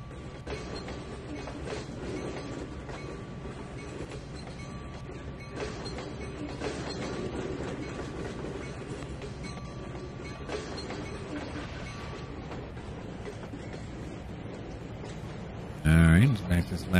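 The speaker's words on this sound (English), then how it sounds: "Sometimes we just see a freight train running" Freight train rolling along rails in the railway simulator game Trainz 2019, a steady rumbling drone with faint rhythmic wheel clatter continuing throughout, ending in a brief louder burst of noise.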